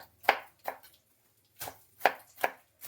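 A knife chops elephant foot yam on a board, five crisp thuds in two close pairs and a single, with quiet gaps between strikes.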